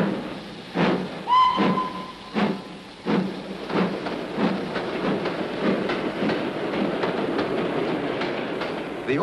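Train wheels rumbling and clacking over rail joints in a steady rhythm, with a brief high whistle-like squeal early on, fairly close and continuous.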